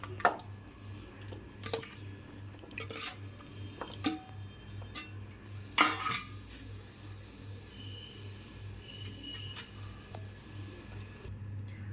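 Neatly cut chicken breast strips for KFC-style strips are shifted into a bowl, giving scattered light clinks, taps and soft wet squishes over a steady low hum, with no voices.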